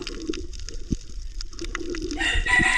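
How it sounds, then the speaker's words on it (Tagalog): Chickens cluck in short, scattered bursts nearby, then a rooster crows loudly near the end amid soft background rustling. "Pasaway ang mga manok na ito."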